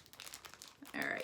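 Plastic packaging crinkles and rips close by during a quilting and paper-crafting unboxing, ending in a louder, sharper tearing burst.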